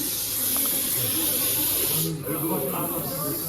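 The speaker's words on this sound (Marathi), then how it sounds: "ज्या टायमाला ऍग्रेसिव्ह होतो त्या टायमाला कुकरच्या शिटीसारखा आवाज मारतो" An aggressive, venomous snake under a car in a housing parking lot hisses sharply and close by in a long, sustained blast like a pressure-cooker whistle that breaks off briefly midway, then resumes, with faint voices murmuring underneath.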